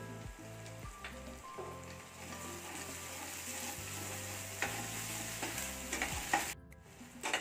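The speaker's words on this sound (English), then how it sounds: "It's time to add the ginger garlic paste and fry along with the meat and the onion." Mutton frying with browned onions and ginger garlic paste makes a loud, continuous sizzle with stirring scrapes, and a steady tonal hum runs underneath.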